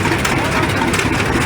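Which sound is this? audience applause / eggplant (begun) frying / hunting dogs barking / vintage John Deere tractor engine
vintage John Deere tractor engine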